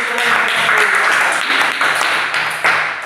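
Students in a classroom clap for a group of classmates, steady, close, dense applause that carries on throughout with little change in volume.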